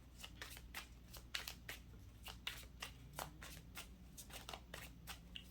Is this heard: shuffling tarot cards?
yes